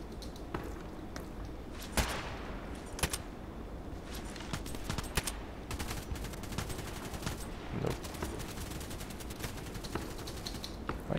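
Gunfire in a shooting video game, a steady run of sharp shots and short bursts at moderate loudness over constant game background noise, with no talking.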